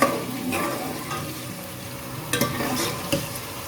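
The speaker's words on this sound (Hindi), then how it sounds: "इसको हम उस वक्त तक भूनते हैं जब तक कि पानी खुश्क ना हो जाए और ये गोश्त सुनहरी ना हो जाए" Gosht (meat) with chana dal frying in a pan, a steady sizzle broken by stirring scrapes and a few louder clatters, close and with no talk.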